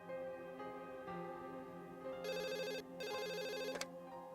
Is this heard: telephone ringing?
yes